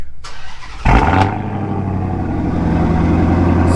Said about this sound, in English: I'm gonna do a quick cold start.